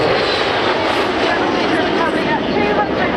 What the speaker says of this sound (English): you can see the 727 flying in from the right hand side, just over the tree line there